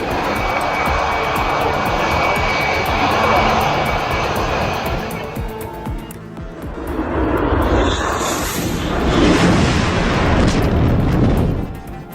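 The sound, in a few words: Turkish F-16 fighter jet low landing approach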